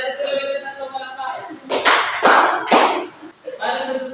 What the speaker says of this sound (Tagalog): Bigyan natin si Ruel ng tatlong palakpak